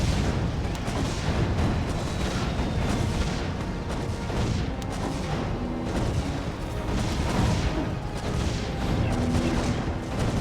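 Guns firing continuously in the tower-defense game Defense Grid: The Awakening, a dense, steady barrage of booming shots and blasts that stays loud throughout with no pauses.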